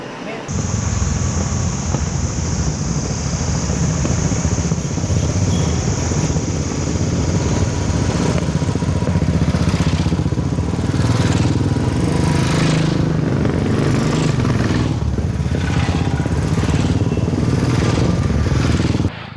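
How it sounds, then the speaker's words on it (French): Motorcycles passing along a road in India, a loud, continuous engine drone that stays near and steady for the whole stretch with no clear gaps between machines. "L'avantage de filmer les motos qui passent"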